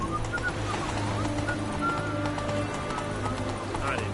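Horse hooves trot with a steady, close clip-clop in the video game Witcher 3, over outdoor ambience with birds and faint voices in the background.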